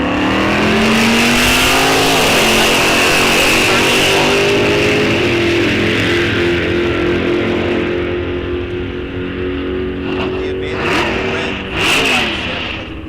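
A Gen 4 Z28 Camaro and a 1955 Chevrolet drag race at a raceway, engines loud and close, revving hard and climbing through gear changes in a sustained roar that eases near the end.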